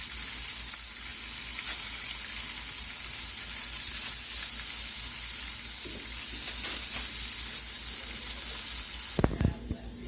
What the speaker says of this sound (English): Okay, these morels don't take long to cook, so we're gonna flip them here.